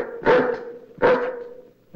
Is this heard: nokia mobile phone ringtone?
no